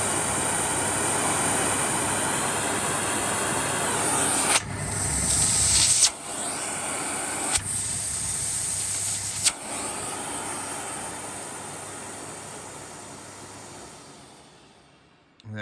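A pastel blue Sebo E3 Premium cylinder vacuum cleaner roars steadily on its 1200-watt boost setting, a loud broad hiss broken by a few sharp clicks before the motor winds down at the end.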